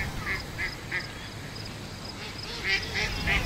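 Ducks being fed quack in a series of short, nasal calls, about eight in a loose rhythm, fairly close, over quiet outdoor background.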